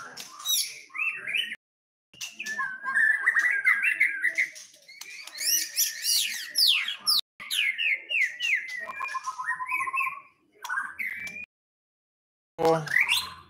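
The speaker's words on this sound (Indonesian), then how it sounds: "Sinyalnya Murai Batu Kalimantan." Wild white-rumped shama (Murai Batu Kalimantan) from Kalimantan singing close and clear, a rich varied run of whistles, chirps and harsh squawks in phrases separated by brief pauses.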